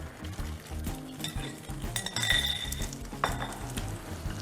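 Eggs and canned tuna in oil stir in a hot pan, with clinks and scrapes of a utensil against the pan over a low frying sizzle and no speech.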